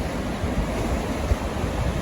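Water rushes through open dam gates on the Spokane River during spring runoff, a steady broadband roar of turbulent flow, heard close and continuous with no talking.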